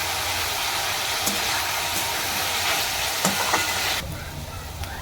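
Capsicum, cabbage and other vegetables fry with salt in a pan for chowmein, a close, steady hiss of sizzling with a few soft stirring knocks that eases off a little near the end.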